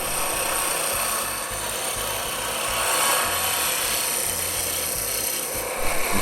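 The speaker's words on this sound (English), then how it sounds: "with the parting tool, I'm just marking kind of the center of my cove and using pretty much a scraping technique here" A parting tool scrapes a long, shallow cove into spinning wood on a Shopsmith lathe, giving a steady, close rasping hiss over the motor's low hum for the whole stretch with no voices.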